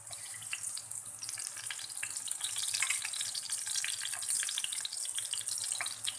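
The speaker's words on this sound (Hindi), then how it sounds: "2 से 3 मिनट दूसरी साइड से फ्राई करेंगे" Eggplant slices fry in hot oil for a yogurt eggplant dish, giving a steady, bright sizzle with scattered pops and crackles. The sizzle is close and continuous and grows slightly louder partway through. No one speaks.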